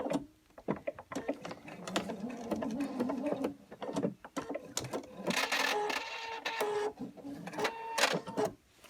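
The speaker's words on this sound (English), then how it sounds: "And I'll overlap a couple of stitches." A sewing machine runs in short bursts of rapid mechanical stitching while overlapping a few stitches, the stop-start whirring close and fairly quiet with pauses between runs.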